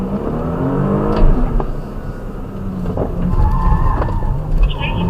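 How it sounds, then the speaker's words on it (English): An Audi A5 engine hums as tires squeal and the car brakes hard, with a voice speaking over the motor noise. "Brake harder, brake earlier."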